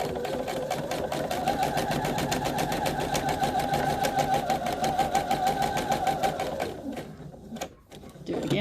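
A sewing machine runs in a fast, even stitching rattle for about seven seconds while sewing a small flannel pillow for an 18-inch doll, then stops briefly before starting again, close and clear.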